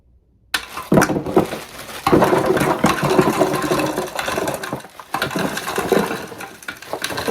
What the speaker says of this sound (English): Make sure that the spout of your fog machine is aimed directly into this hole that you created